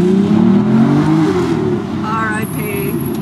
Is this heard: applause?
no